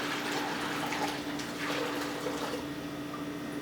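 Fresh, non-dechlorinated water poured into a bucket while bagging fish, a steady close splashing gush with a few fluctuating surges, heard alone.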